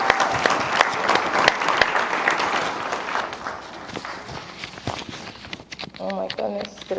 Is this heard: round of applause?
yes